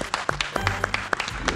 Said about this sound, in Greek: Ένα χειροκρότημα για τον Μάριο που οδηγάει με ταχύτητες